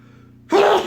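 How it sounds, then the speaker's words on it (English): A single powerful human sneeze bursts out loud and close after a brief quiet intake, cutting off abruptly in a short explosive blast. "It's a powerful sneeze."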